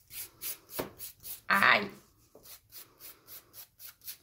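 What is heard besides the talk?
filing fingernails with a nail file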